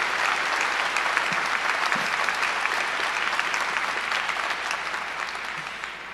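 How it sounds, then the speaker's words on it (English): Audience applause at a 2020 high school graduation ceremony, a dense sustained clapping from a large crowd that stays loud throughout and tapers slightly at the end, with no speech over it. "How about another round of applause for both of our speakers?"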